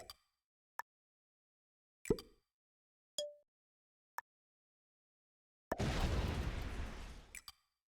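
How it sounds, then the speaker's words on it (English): Sporadic explosions in a video game: a few sharp pops and thuds spaced across several seconds, then a long, loud roaring blast lasting nearly two seconds, followed by a last quick burst. "Oh, there were a lot of explosions."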